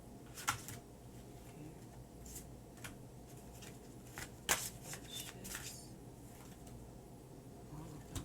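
Tarot cards being shuffled and handled, giving soft papery riffles, flicks and taps at close range, fairly quiet, with irregular sharper snaps scattered through.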